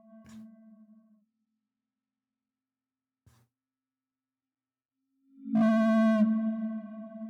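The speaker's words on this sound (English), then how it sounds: "So yeah, you can hear the reverb." Two short tone bursts with a brief tail, then a sustained bright test tone that rings out in a reverberant room, fairly loud, no voices.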